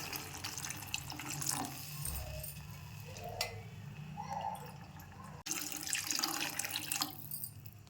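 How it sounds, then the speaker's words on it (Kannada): Water poured cup by cup into a cooking pot while making North Karnataka style uppittu, a steady close splashing stream with a brief break partway through, no talk. "ಅದಕ್ಕೆ 5 ಕಪ್ ಆಗೋಷ್ಟು ನೀರನ್ನು ಸೇರಿಸ್ಕೊಳ್ತಾ ಇದ್ದೀನಿ"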